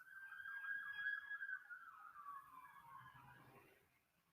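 A distant siren wails with rapid rising-and-falling cycles, then fades away as it moves off.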